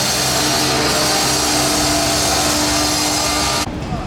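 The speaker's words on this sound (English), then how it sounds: "sorry about the noise. They're digging up Pilgrim Street." Loud, constant roar of digging machinery at roadworks on Pilgrim Street fills the whole clip, with a steady grinding hum that drops away abruptly near the end.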